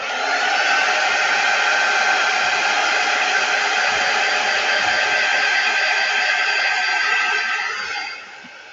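Hot-air dryer drying a freshly painted craft piece, a loud, steady close whoosh that runs several seconds before it quickly tapers off near the end.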